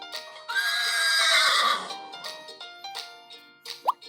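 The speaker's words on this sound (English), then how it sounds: "horse" A horse gives a loud, drawn-out whinny that rises and trails off, heard close and alone over a soft musical background with light plops near the end.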